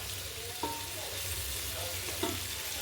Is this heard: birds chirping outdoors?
no